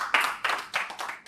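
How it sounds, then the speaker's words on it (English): Hand claps ring out in four distinct bursts, close and fairly sharp, from what sounds like only a few people rather than a full crowd. "Give him a round of applause."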